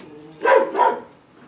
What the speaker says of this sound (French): c'est mon chien qui aboie